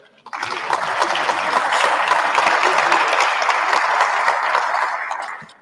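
A crowd breaks into sustained, dense applause that swells quickly, holds steady for several seconds, then tapers off.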